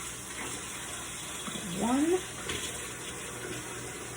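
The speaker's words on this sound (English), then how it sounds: "To that egg, we're gonna add 2 tablespoons of water." Water pours briefly into a bowl holding a cracked egg to make an egg wash, a short close splash in the middle of a quiet room with a faint voice nearby.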